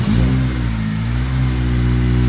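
A Honda Civic Type R FN2 fitted with a Tegiwa exhaust fires up and settles into a deep, steady idle rumble, loud and close, with no talking over it.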